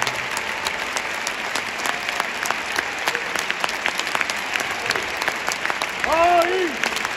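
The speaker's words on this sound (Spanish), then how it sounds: "Este aplauso es para todos vosotros." Audience applause at a CAI Zaragoza basketball tribute ceremony honoring two Copa del Rey titles, sustained clapping from a large crowd with distinct sharp claps, and a voice rising briefly over it near the end.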